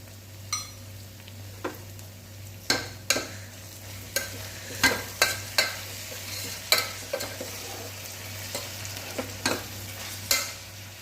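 Ginger garlic paste sautés in a pan for vegetable biryani, a steady sizzle under repeated sharp scrapes and clinks of a spoon stirring against the metal, irregularly spaced over a low constant hum.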